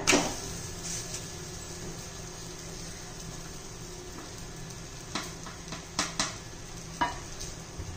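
A masala paratha sizzles on a hot tawa with a steady, close crackle throughout, broken by a few sharper pops and scrapes near the end, with no voices.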